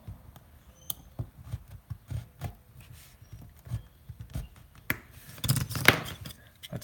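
A blade scores along the edge of a plastic and die-cast truck model in a steady run of small close scraping clicks and taps, with a denser burst of scraping near the end.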